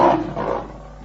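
A furious lion's roar as a storybook sound effect, one loud rumbling burst that swells and fades over about a second, heard alone with no talk.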